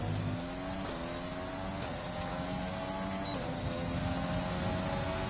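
A Red Bull Formula One car's engine screams at high revs through a flying lap at Japan in F1 2020, the pitch sweeping with gear changes, steady and loud with no talk.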